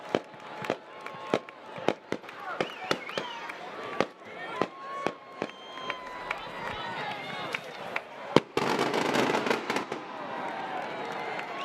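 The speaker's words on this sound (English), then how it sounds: "sponsoring the fireworks display" Fireworks at a homecoming high school football game pop and crack in irregular sharp bursts, some loud and close, ending in a dense crackling flurry, with crowd noise and voices in the background.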